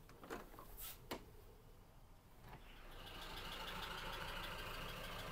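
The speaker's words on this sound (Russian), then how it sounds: "прямо слышно, как работает трактор" A few sharp knocks, then the steady rumble of a tractor engine working outside a hotel window in Sochi, heard from a distance and holding on to the end.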